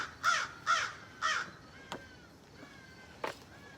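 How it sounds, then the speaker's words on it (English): Gull-like calls, three loud harsh cries in quick succession followed by a couple of fainter distant calls, heard alone with no talk. "Can you hear the seagulls answering"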